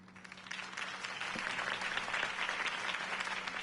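Soft video game crowd applause, somewhat distant and muffled, swells a little and carries on steadily over a low hum.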